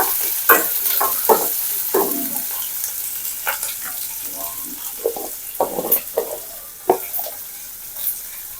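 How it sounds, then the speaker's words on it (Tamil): Onion, green chili and curry leaves fry in hot oil, a soft steady sizzle broken by scraping, clattering stirs of a spoon in the pan, close up with no talk. "இதுலயே வெங்காயமும் பச்சை மிளகாய், கருவேப்பிலை, இந்த 3மே இது போட்டுக்கிறோம்"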